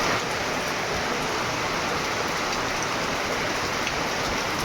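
Torrential rain hammers down in Rajkot at noon, an even, hissing downpour on nearby surfaces that holds steady throughout with no talking over it.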